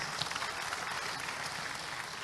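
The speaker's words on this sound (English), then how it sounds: "Shall we give them a bigger round of applause?" Audience applause at a Ghana Bar Association opening ceremony: a dense, steady wash of clapping from a large crowd that holds at an even level throughout, with no voices rising above it.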